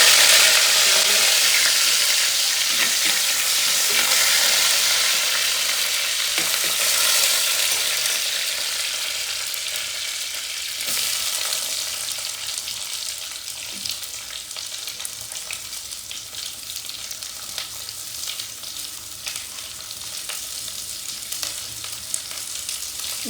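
Curry leaves sizzle and crackle loudly in hot oil in a pan for a mussel dish, a dense frying hiss that gradually settles to a softer, steady sizzle with occasional pops.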